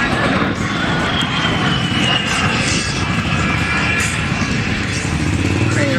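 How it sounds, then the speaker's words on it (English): An A-10 Thunderbolt II Warthog flies a slow roll at an airshow, its engines a loud, sustained roar with a shifting whine as it passes. "Now from the right, Major Brown in the slow roll."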